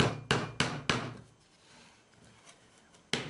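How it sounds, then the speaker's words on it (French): Hammer tapping nail points on a wooden birdhouse: four quick sharp knocks in a steady rhythm, a short pause, then one more close, dry tap. "Un petit coup de marteau sur la pointe."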